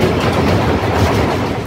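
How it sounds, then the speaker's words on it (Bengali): Ride aboard the Secunderabad–Agartala special train, a loud, steady rumble and rolling roar of the moving carriage heard from inside, continuous with no distinct beats and no talking. "এটা হচ্ছে সেকেন্দ্রাবাদ আগরতলা স্পেশাল ট্রেন"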